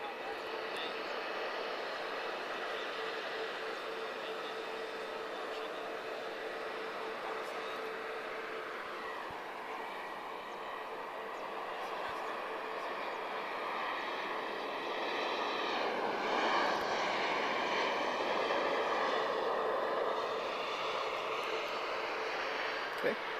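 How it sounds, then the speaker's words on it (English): A TAP Express Embraer E195 advanced-range airliner arriving at Lisbon Airport, a sustained jet engine roar that swells and shifts pitch as it comes closer, with a commentator speaking over it. "This is an Embraer E195, advanced range."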